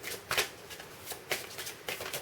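A deck of Queen of the Moon Oracle cards is shuffled by hand in a few quick, soft riffling bursts with short pauses between, close and fairly quiet, with no talking.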